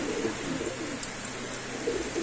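Soft, low cooing of Chuya Chandan pigeons repeats in the background over a steady murmur of ambient noise, no clear voices.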